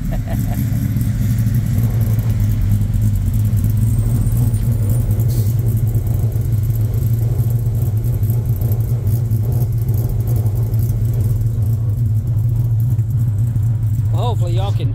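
A Coyote V8 in a 1969 Ford F100 truck idles with a steady, deep rumble, loud and close for the whole stretch; a brief voice comes in near the end.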